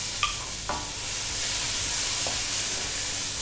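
Chopped onions and ginger hit hot oil in a pan, a sharp clink followed by a loud, continuous sizzle with a few stirring scrapes.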